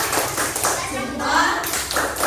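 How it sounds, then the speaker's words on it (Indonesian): A classroom of children claps for group 2, a burst of loud rhythmic clapping with voices calling out over it. "tepuk tangan untuk kelompok 2"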